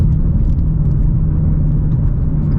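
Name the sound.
Ford Shelby GT350 engine pulling hard through a no-lift shift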